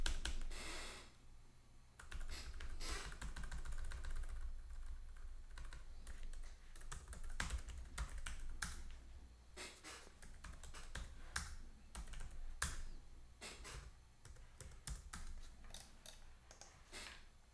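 Someone types test data into a form on a computer keyboard, producing bursts of sharp, close key clicks with brief pauses between runs and no talking.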